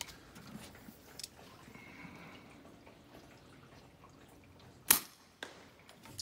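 A suppressed Chiappa Little Badger rifle fires one round of CCI subsonic .22LR, a single sharp, brief crack near the middle, with quieter clicks of the action before and after over low background noise.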